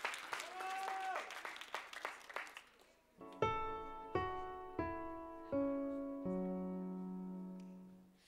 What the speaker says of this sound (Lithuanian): Plojimai!